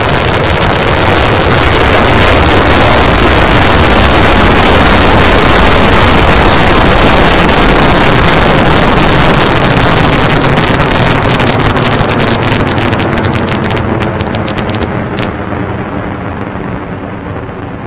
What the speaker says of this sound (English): We have liftoff of the Falcon 9.